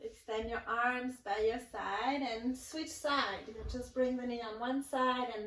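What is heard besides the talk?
No everyday noise stands out behind the speech.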